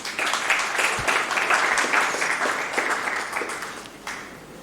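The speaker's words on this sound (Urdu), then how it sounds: "پاکستان پہ تو تالیاں ہو جانی چاہیے" A conference audience in Karachi applauds for Pakistan, a moderate wash of clapping that holds for several seconds and then thins out toward the end.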